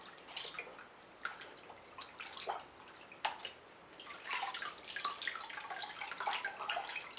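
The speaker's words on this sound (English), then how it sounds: "fresh water that I use to rinse. Give it a bit of a rinse here." Dyed wool is rinsed in a jar of fresh water, with close, steady splashing and trickling and a few sharper drips and sloshes, with no speech.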